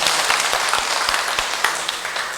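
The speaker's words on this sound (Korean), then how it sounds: "큰 박수로 환영해 주시기 바랍니다." A Korean Catholic monthly meeting's audience applauds to welcome a returning member, dense sustained clapping filling the room, loud and steady throughout without talk.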